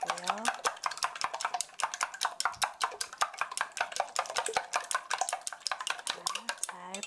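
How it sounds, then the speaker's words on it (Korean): Eggs are beaten with a utensil in a bowl for cucumber scrambled eggs, giving a fast, steady run of light clinking taps that continues evenly, close by and fairly loud, with no talking. "흰자와 노른자가 잘 섞이도록 촉촉촉촉 풀어주시고요."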